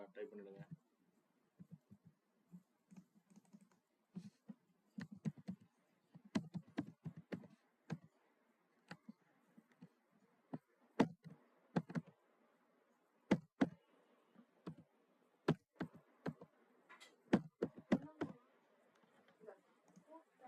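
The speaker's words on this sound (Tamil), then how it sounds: "ஆதார் நம்பர் டைப் பண்ணிடுங்க." Bursts of computer keyboard typing while an Aadhaar number is entered, with irregular runs of crisp, close key clicks separated by short pauses.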